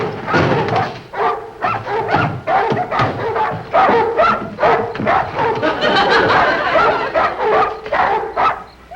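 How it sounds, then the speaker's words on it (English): Several dogs bark and yip in repeated, uneven bursts throughout, fairly loud and close, with a few whimpering notes mixed in, in a neighborly domestic comedy setting. "Of course they're barking right now."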